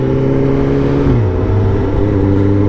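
A Suzuki GSX-S 750 motorcycle engine at a steady drone while riding, loud and close, its pitch dropping smoothly partway through as the revs fall.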